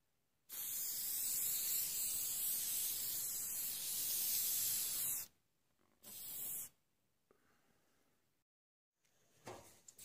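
Spray varnish hisses from an aerosol can onto a painting in a long continuous burst, then a shorter second burst, loud and close, followed by quiet handling noises.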